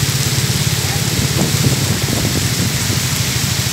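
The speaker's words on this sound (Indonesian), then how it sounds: "Hujan." Heavy rain pours down steadily during a windy storm in Pondok Indah, a loud, dense wash with low rumbling underneath that continues without a break.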